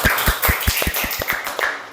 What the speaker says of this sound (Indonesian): Kita beri tepuk tangan untuk kelompok perakit